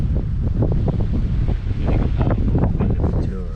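Steady gusting coastal wind at a lookout near Port Lincoln, Eyre Peninsula, buffets the microphone with a low roar, while a voice talks intermittently over it throughout.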